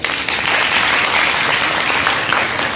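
An audience at a speech competition breaks into dense, loud applause. The clapping is continuous and fills the whole short stretch at an even level, with no voices over it.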